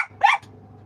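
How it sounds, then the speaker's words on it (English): A single short, sharp bark from a dog told to speak, close and loud, followed by a soft low rumble. "Are you going to speak, Einstein?"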